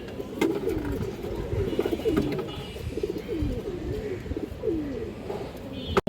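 An old-breed female pigeon coos in soft, rolling repeated phrases, close and steady against a faint background hum.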